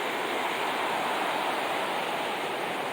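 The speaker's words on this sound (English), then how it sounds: "So the river goes on up that way, flowing down." Hood River in Oregon rushes along beside the Pipeline Trail, a dense, steady roar of flowing water that fills the whole clip without a break and with no voices.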